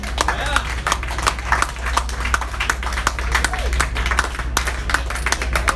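A theater audience claps for performers gathering on stage for a final bow, many hands beating sharply and continuously at close range, with a low steady hum underneath.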